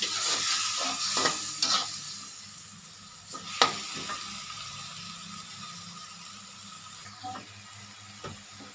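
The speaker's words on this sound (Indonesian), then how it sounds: "Kita aduk-aduk seperti ini teman-teman." Spicy chicken feet frying and sizzling in a pan while being stirred, with a steady hiss and several sharp scraping, clacking strokes of the utensil against the pan.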